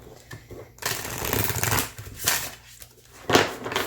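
New Starchild Tarot cards, a first edition reprint, shuffled in a four-pile pattern, giving soft papery riffles and slaps in several close bursts with short pauses between.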